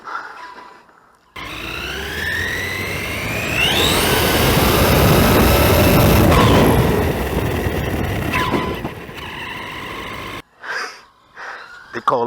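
An SUV accelerates at full throttle over a toy zombie: a loud, sustained engine roar with rising whine that swells, holds for about nine seconds, then cuts off abruptly, followed by brief scattered noises.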